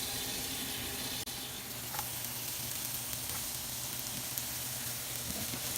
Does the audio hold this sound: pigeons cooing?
no